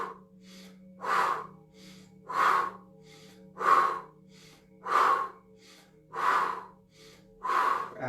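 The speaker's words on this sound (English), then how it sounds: "so nice deep breaths in through the nose" Slow, deep breaths drawn in through the nose during a standing breathing exercise, six loud, even inhalations at a steady rhythm about every 1.3 seconds, each rising and fading, with a faint steady hum underneath and no talking.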